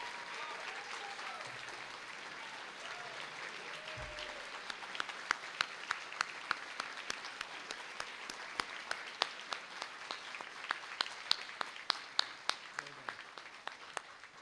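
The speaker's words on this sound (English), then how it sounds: "Let's give all of these remarkable young people a big round of applause." Sustained audience applause fills a graduation ceremony hall at a university honors college, a dense wash of many hands with sharper individual claps standing out as it continues, steady and moderately loud throughout.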